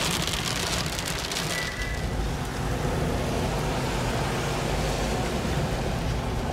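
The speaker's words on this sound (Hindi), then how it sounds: "बहुत तगड़ी बारिश हो रही है अभी फिलहाल यहाँ पे।" Heavy rain pours down on the road to Manali in the mountains, a dense, constant hiss of drops hitting the surface, loud and unbroken, with a faint vehicle presence beneath and no talk.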